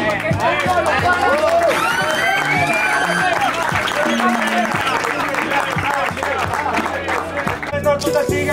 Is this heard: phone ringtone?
no